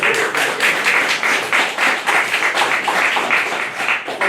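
An audience at a classic jazz event in Queens, New York claps in dense, sustained applause, a steady loud wash of many hands with slight swells, with no talk over it.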